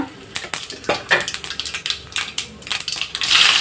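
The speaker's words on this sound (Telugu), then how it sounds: "ఆవాలు వేయాలండి ఇవి చిటపటలు ఆడిన తర్వాత" Mustard and cumin seeds crackle and pop in hot oil in a frying pan, a close run of irregular sharp snaps and spits that grows denser toward the end.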